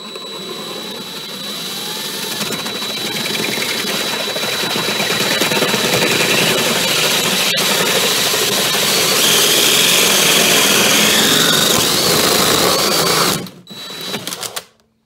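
A hole saw grinds steadily through 5/8 drywall in one long, loud, close cut with a rasping whir, ending in a short stop and a few scraping sounds.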